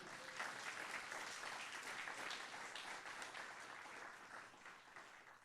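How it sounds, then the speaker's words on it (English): Audience applause at a healthcare celebration event, a steady wash of many hands clapping that stays fairly quiet and distant throughout, slowly tapering near the end. "I didn't say that to you so you could clap for me"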